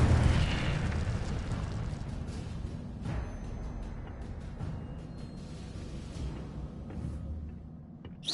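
An Incendio fire spell cast in Hogwarts Legacy releases a loud, roaring whoosh of flame that starts at full strength and slowly fades, with a few crackling pops along the way.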